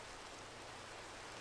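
Rain in the Minecraft video game falls as a faint, even hiss that holds steady without a break.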